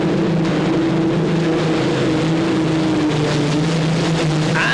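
A pulling tractor driven by two Rolls-Royce Griffon aero engines roars at a 1995 European tractor pulling event at Ahoy Rotterdam, a loud, continuous droning growl with a steady throbbing pitch throughout.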